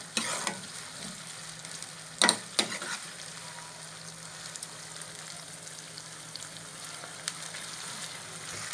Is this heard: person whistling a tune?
no